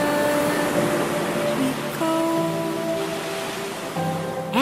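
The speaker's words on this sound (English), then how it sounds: "Common sounds of the splash of the ocean waves." Ocean waves splash and wash in steadily, a continuous broad surf roar with a brief surge near the end, heard alone with no voices.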